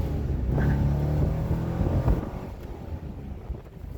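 Corvette Z06 street-legal race car driving on the road, a steady engine drone mixed with heavy wind rush, heard from inside or close by with no talking.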